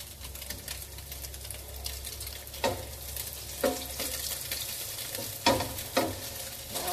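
Food pieces frying in hot oil in a pan for a vegan dish: a steady, close crackling sizzle runs throughout, broken by several sharp clatters as pieces drop in or a utensil knocks the pan.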